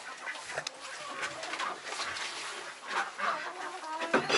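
Chickens clucking softly in a farmyard enclosure near Lake Baikal, a scatter of short irregular clucks and chirps at moderate distance, fairly quiet with no talk.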